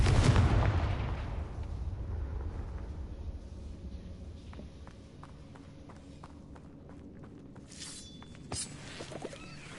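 A Confringo blasting curse spell detonates in a loud, booming explosion right at the start, then its rumble decays over several seconds, leaving scattered faint clicks and a short later burst.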